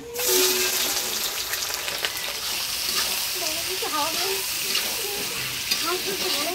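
Bay leaf, whole garam masala and chopped onion fry loudly in hot oil. The sizzle is dense and continuous, with a spoon stirring through it and a voice heard faintly in the background.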